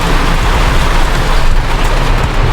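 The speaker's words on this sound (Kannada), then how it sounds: "ಸಿಕ್ಕಾಪಟ್ಟೆ ಜೋರು ಮಳೆ" Heavy downpour drumming outside a car as it pulls into the Mall of Asia, a loud, dense and unbroken roar of rain mixed with low engine and road rumble, close and constant.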